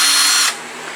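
A cordless power drill with its clutch set to 5 drives a tap into a metal casting, giving a loud steady whir for half a second that then drops to a quieter hum or clicking.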